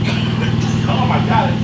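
A 2016 Buick Enclave engine running rough at idle, a steady, loud low rumble with an uneven pulsing beat and a voice faintly over it.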